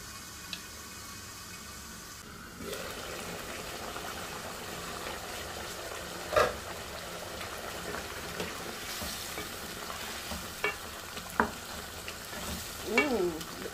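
Githeri with potatoes simmering in a pot: a low, steady bubbling hiss with a few soft clinks and taps of the pot, fairly quiet and close, with no voices.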